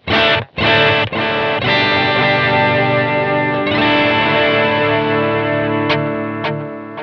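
Electric guitar through a TC Electronic Flashback X4 delay pedal on its tape setting: a few picked chords and notes ringing out with soft, trailing repeats and a long sustain, loud and close, with no talking.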